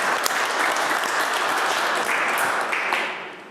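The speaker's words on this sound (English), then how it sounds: "I'd say big hand of applause for all of them." An audience applauds a conference panel, steady dense clapping filling the whole stretch and tapering off at the end, with no talk over it.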